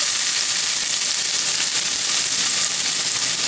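Chopped onion sizzles in hot avocado oil in a frying pan, a steady, loud, close hiss and crackle that holds evenly throughout with no voices.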